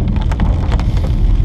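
Steady rain falling at a Scottish beach, heard as a dense, continuous patter with scattered nearer drops over a low rumble of wind, fairly loud and with no voices.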